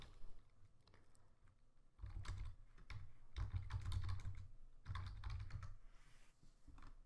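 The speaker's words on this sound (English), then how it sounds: "We can type in our name." Fingers tap out a name on a computer keyboard in quick bursts of close, soft clicking, with short pauses between runs of keystrokes.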